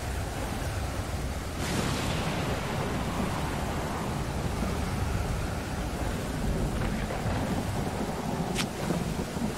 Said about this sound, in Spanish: vaya tormentaca